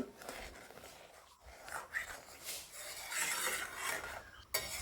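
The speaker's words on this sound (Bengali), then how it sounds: "চাল দেওয়ার পরে কিন্তু অনবরত এটাকে নাড়তে থাকতে হবে না হলে নিচে লেগে যাবে" A spoon scrapes and stirs rice paste through boiled milk in a pot for mango phirni, soft repeated rubbing strokes and light clinks at low volume with faint background voice.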